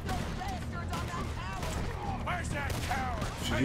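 Gunfire in the Western video game Red Dead Redemption 2, played on PC: several sharp shots ring out a second or so apart beneath a voice.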